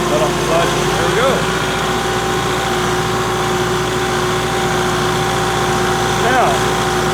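A Kubota M5660 SU tractor engine runs steadily and loud as the machine pulls away, a continuous droning hum with a faint whine throughout, close and unbroken, with no talk over it.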